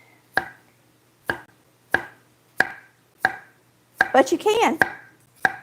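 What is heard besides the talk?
knife chopping Vidalia onion into large pieces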